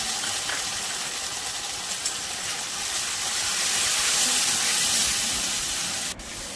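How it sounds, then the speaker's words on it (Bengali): Tomato paste is stirred and fried with golden fried onions in a pan, a loud continuous hissing sizzle that swells toward the end before a sharp knock. "টমেটো পেস্টটা একটু নেড়ে আমি ভেজে নিচ্ছি"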